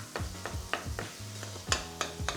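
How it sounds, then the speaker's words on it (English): Onions, garlic and ginger sizzle in a pan as a butter chicken sauce base, with a steady frying hiss broken by rhythmic stirring scrapes and light clicks of a utensil, close and fairly quiet, no talking. "Get some sizzling going on here."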